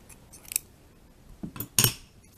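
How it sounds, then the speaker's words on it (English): Scissors snip through crochet yarn while making a mermaid doll: a light snip, a softer double cut, then one louder, crisper close-up cut, all in a quiet room with no talking. "I'm going to cut that also with a little bit of a tail for tacking in"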